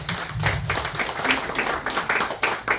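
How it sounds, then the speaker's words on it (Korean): A seated audience at an inauguration ceremony for a constitution-defence group's new leader gives a round of applause, steady clustered clapping that swells and dips, moderately near with no talk. "박수 한번 보내겠습니다."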